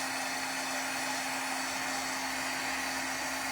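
A heat tool blows hot air onto the back of an acetate collage, giving a loud, steady, close rushing roar with a constant motor whine that runs unbroken and alone the whole time.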